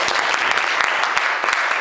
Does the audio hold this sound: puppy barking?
no